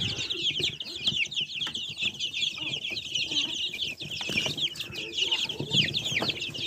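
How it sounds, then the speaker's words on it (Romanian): Young Australorp pullets, about a month old, cluck and chirp continuously in a farm flock, a dense high chorus over low rustling and shuffling, with faint wing flaps nearby. "Avem foarte multe puicuți, foarte puțin cocoșei."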